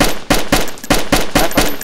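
Gunfire in DayZ rings out as six or seven loud, sharp shots in a fast, fairly even rhythm, close and alone.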